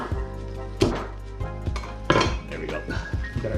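A knife chops through ears of corn on a cutting board, giving several sharp, close thunks spaced about a second apart, with light clinks of kitchen utensils between them.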